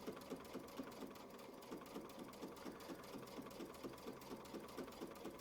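A sewing machine stitches a row of half-circle quilting on a skill-builder quilt block, running as a steady, close mechanical whir with a fast, even needle rhythm throughout.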